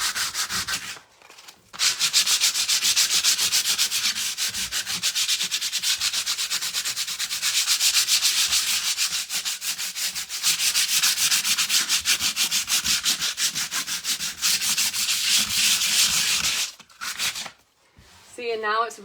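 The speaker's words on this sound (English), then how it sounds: "And then I'm just going to sand it." Hand sanding of a raised Moroccan stencil on a wall with folded 220 grit sandpaper makes a close, steady, rapid back-and-forth rasping scrape that runs for about fifteen seconds, with brief pauses near the start and end.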